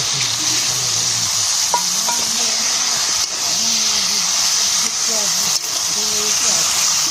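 Vegetables with ginger and green chili sautéing in a pan, a steady sizzling hiss running throughout with occasional faint stirring scrapes and a voice talking quietly over it.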